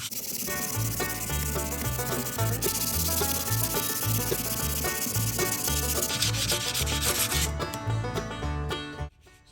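Fine 320 grit sandpaper rubbing steadily on a metal pipe wrench, a close, continuous scratchy rasp in repeating back-and-forth strokes that stops abruptly near the end.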